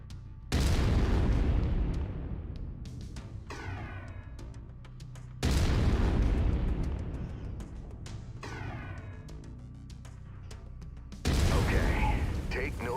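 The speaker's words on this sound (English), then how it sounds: "I've mapped the autocannon to Weapon Group 1. You're free to fire whenever you're ready." An autocannon in a mech video game fires three heavy, booming shots spaced several seconds apart, each a loud blast followed by a long rumbling, ringing decay.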